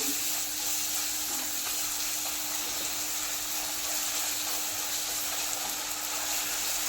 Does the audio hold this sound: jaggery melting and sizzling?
yes